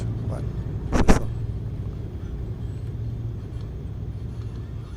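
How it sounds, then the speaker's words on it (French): A light airplane engine drones steadily in a cockpit during a circuit at Cannes Mandelieu, with a sharp brief clunk from the brake linkage near the start. "on entend bien les bruits moteurs et tout, les bruits de tringlerie et tout, au niveau des freins"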